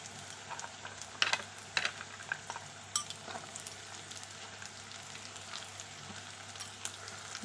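Drumstick (sajne data) pieces frying in oil with lightly fried onion, a steady close sizzle broken by clinking utensil taps and stirring.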